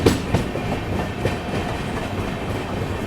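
A superfast passenger train runs at speed on the Hubli to Nizamuddin line, heard from inside a first-class coach as a loud steady rumble with rhythmic clickety-clack of wheels over rail joints.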